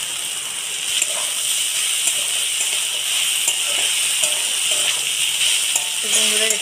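Sliced cabbage, carrot and capsicum sizzle steadily in a hot pan as they stir-fry, a loud continuous hiss close by with faint scraping stirs and a short voice near the end.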